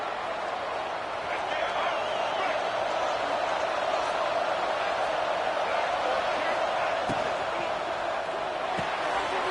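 Loud, sustained roar of a packed LSU football stadium crowd, dense and continuous, with a few sharp thumps and no clear individual voices.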